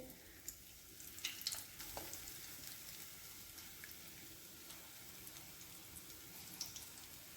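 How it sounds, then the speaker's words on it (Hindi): Marinated chicken pieces fry in oil with a faint, steady sizzling hiss, a few soft crackles and spatters rising near the start, quiet and close with no talking. "अब मैरिनेट किए हुए चिकन को मैं इसमें फ्राई करूंगी"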